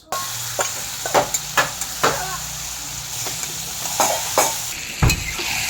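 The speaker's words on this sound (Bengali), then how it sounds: "তো দিয়ে দেবো তেজপাতা" Bay leaves hitting hot oil in a pan where potatoes were just fried, sizzling steadily with a series of sharp clicks and scrapes of stirring, close and fairly loud.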